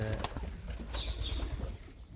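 Domestic homing pigeons coo and flap their wings close by in a loft, a short soft burst of cooing with wingbeats over low rumbling background.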